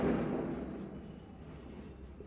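Pen scratching across paper while writing out maths notes on integration, a soft continuous scratchy texture with faint rhythmic strokes, quiet and close, with no talk.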